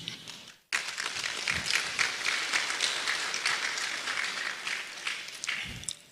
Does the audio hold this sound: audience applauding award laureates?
yes